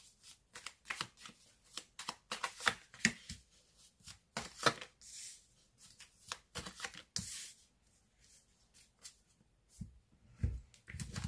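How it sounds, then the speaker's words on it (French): Tarot cards being shuffled by hand at close range, a long run of quick riffling snaps and soft slaps in irregular bursts with brief pauses between, and no voices. "On va essayer de passer un petit peu les cartes"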